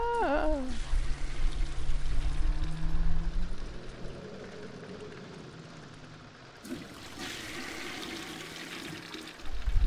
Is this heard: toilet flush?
yes